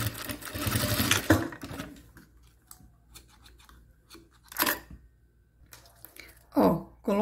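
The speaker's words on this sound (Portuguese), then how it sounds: "E vou vir fazendo a minha costura." A sewing machine runs in a loud burst while stitching fabric for a pencil case, then stops; short whirring bursts return later, with soft handling noises in between.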